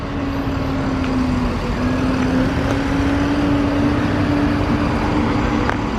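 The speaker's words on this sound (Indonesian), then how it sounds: "Truk." A truck passing at a ferry port at night: steady, loud engine drone and road rumble that holds for several seconds, with a faint tonal hum running through and no talk.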